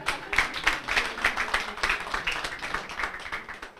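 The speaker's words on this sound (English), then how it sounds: "Let's clap for him." Audience applause at a university moot court competition: a room of people clapping steadily and densely throughout, at moderate volume, with no one speaking over it.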